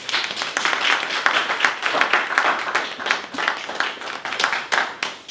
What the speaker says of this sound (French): Applaudissements encore s'il vous plaît